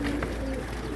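Small red birds, with newly hatched chicks among them, give soft, faint cooing calls up close over a low background hum.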